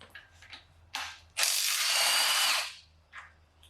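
Ratchet wrench working on oil pump bolts of a K24 engine during a teardown, a few short clicking bursts, then a loud sustained rapid ratcheting run of about a second, then one more brief click, close and without talk.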